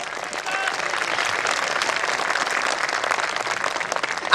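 Audience applause at a Hindi comic poetry gathering, a sustained, even wash of clapping from a large crowd, loud and continuous throughout with a faint voice early on.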